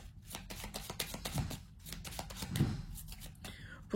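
Cards for a card reading are shuffled and laid out close by in a rapid series of crisp slaps and riffling flicks that continue through the whole stretch.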